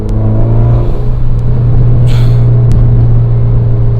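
Turbocharged Mitsubishi Evo X on its stock turbo with a stage 2 tune, engine pulling hard under acceleration: loud, steady, close-up roar with a deep rumble, continuous throughout with no speech.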